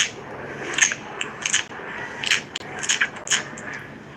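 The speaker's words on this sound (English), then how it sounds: "That's the sound of a pufferfish." A pufferfish makes a series of faint crunching, clicking bursts, irregular and close, like teeth grinding or gritty crackles.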